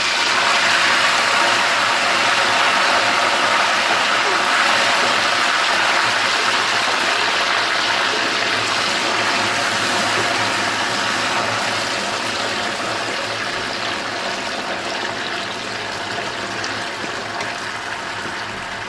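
Water poured into hot melted sugar in a pan while making syrup for makhandi halwa, giving a loud, continuous hissing, bubbling roar that slowly fades, with no voices.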